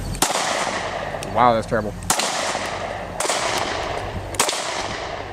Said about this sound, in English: after shooting the SCCY CPX-2, put about 150 or 200 rounds through it